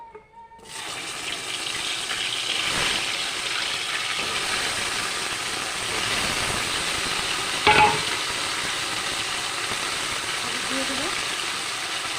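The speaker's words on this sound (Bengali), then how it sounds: "তেলে আমি ছড়াগুলি বেছে নেবো" Food pieces frying in oil give a steady, bright sizzle close up that runs throughout after a quiet start, with one brief clink partway through.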